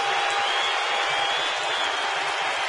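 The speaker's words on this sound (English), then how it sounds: "Chad Billingsley gets a hand from the Dodger fans" Dodger fans at a baseball game applaud pitcher Chad Billingsley in a dense, steady wash of clapping and crowd noise that keeps up without a break.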